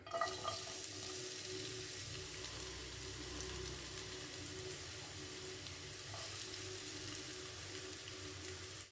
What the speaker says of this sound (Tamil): அந்த எண்ணெயில் ஒரு பெரிய வெங்காயம் நறுக்கி வச்சுருக்கேன், அந்த வெங்காயத்தை சேர்த்துக்கலாம்.